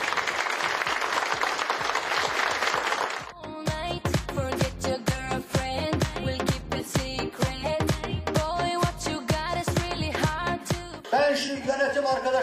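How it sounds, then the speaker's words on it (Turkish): Audience applause at a Turkish sports gathering fills the first three seconds as a dense, steady clapping wash, then stops when loud rhythmic music begins. "Sayın Mehmet Çelik'i alkışlarınızla da"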